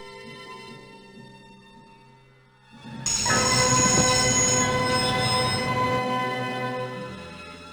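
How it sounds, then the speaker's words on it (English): Train wheels squeal loudly as the train brakes to a stop in the video game Broken Sword, rising suddenly after a quieter rumbling start and holding a sustained metallic screech with rail noise beneath. "I'd always wanted to stop a train, and now was my chance."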